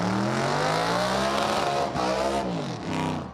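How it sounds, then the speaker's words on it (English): Street machine doing a burnout at the Summernats car festival, its engine screaming at high RPM with the exhaust note climbing and dipping in sweeping pitch glides, loud and close, alongside tyre squeal. "Here, the noise coming out of that exhaust, huge RPM, big thud"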